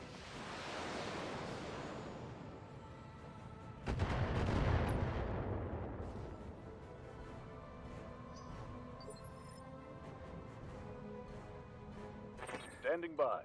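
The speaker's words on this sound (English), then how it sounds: "That's a reasonable amount of missiles connecting there." Missiles striking in the BattleTech mech game, a broad rumbling barrage of explosions that swells, fades, then returns with a heavier impact roll, followed by quieter rumble and scattered later hits.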